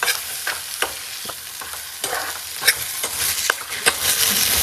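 Garlic and tomato frying for butter chicken, a steady sizzle with repeated scraping stirs of a spoon in the pan, close and clear with no talk.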